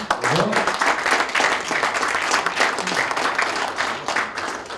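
An audience applauds the speakers at the end of a Green IT talk, sustained, fairly close clapping with rhythmic pulses and some voices mixed in.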